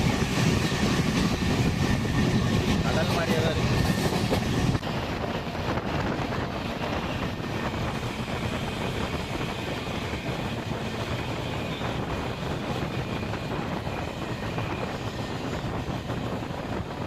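The Tambaram–Jodhpur Express runs at speed, a steady rumbling roar of wheels and rushing air heard from on board, louder for the first few seconds and then a continuous, slightly softer drone with no talk.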